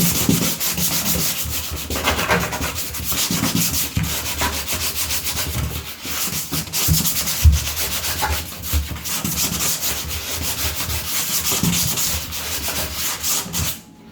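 Sanding on a fibreglass bathtub surface at a repair job goes on in uneven back-and-forth strokes, with a steady rough rubbing that rises and falls close by.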